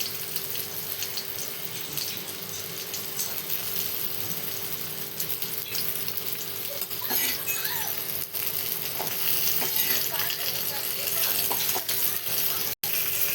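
Green chilies frying in oil give a steady, even sizzle up close, with a few faint clicks of stirring across its length.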